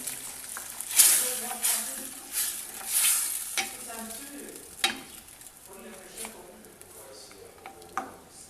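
A cornstarch and water mixture is stirred in a pot, with scraping, knocking strokes of the utensil against the pot and a low sizzle between them.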